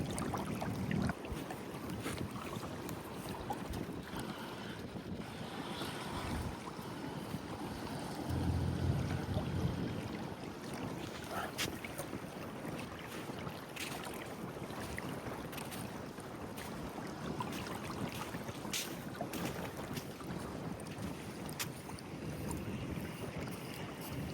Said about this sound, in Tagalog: Mahangin ay. Mahangin.